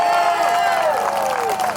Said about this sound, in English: give Ballymena a massive round of applause